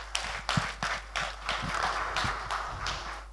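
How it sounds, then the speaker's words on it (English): Scattered, uneven hand claps from a small audience at the inaugural ceremony of a BV Doshi memorial architecture exhibition, a few sharp close claps standing out over a steady room hum, with no talk. "that really required a resounding clap"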